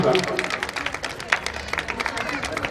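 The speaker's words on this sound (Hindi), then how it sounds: "मैं मैम के लिए तालियां बजाने की गुजारिश करूंगा" A crowd applauds steadily, with dense clapping and a low murmur of voices underneath.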